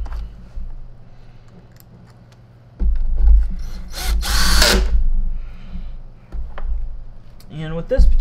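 A power drill with a mechanical clutch drives screws into a Miele C2 S6 vacuum cleaner: a close, loud whirring buzz starting a few seconds in, run in short bursts with a harsh rasping peak midway and brief pauses.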